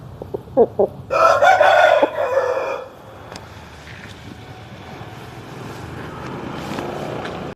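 A three-kilogram Dega rooster crows loudly nearby in one long call after a few short clucks, followed by a steady low engine-like hum.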